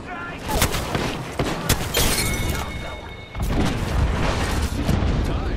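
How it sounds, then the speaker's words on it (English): Airstrike blasts in the Apex Legends battle game, a run of heavy booms and crashing impacts layered with dense gunfire-like bursts, loud and continuous, with a player's voice talking over the chaos. "Airstrike!"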